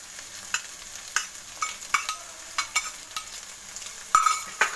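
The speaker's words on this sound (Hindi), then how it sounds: "इसको अच्छे से मिला लेने हैं।" Grated boiled egg being stirred into a potato breakfast mixture in a pan, with a series of close, sharp spoon scrapes and clinks at an uneven rhythm over a faint sizzle.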